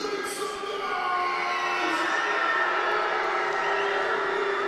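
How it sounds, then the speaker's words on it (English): A large crowd of about 2,500 at a St. John's Edge vs Sudbury Five professional basketball game at Mile One keeps up a steady, energetic roar of cheering and chatter, with a few higher shouts near the start. "Nice, energetic crowd here."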